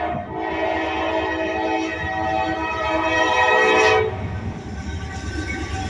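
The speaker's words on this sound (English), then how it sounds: "There is a train." A Norfolk Southern intermodal freight train passes close by in central Virginia, a loud steady roar of rolling cars and wheels with a long horn blast sounding over it before fading back to rumble.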